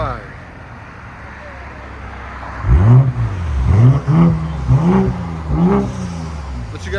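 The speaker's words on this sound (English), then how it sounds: "2026 M340i with a Dinan axle back exhaust, valved exhaust" A 2026 BMW M340i with a Dinan valved axle-back exhaust revs up several times in a row. Each rise and fall is loud and close, after a quiet idle at the start.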